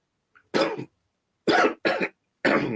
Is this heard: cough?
yes